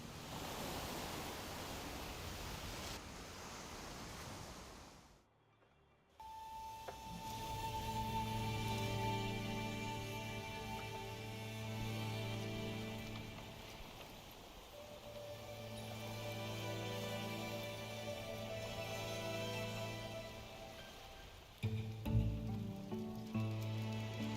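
Rain falls in the video game Wuthering Waves: a steady hiss of rainfall on surfaces, briefly cut to silence, then continuing under a layer of game music tones.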